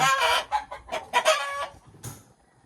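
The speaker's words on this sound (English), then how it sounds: "it looks like the other chicken is gonna lay another one" A backyard chicken clucks in a quick series of close, loud, choppy calls, with a final squawk after a short pause.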